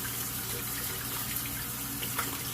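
Tap water runs steadily while shaving gear for a straight razor shave is rinsed beneath it, a close, continuous splashing rush with a small clink near the end.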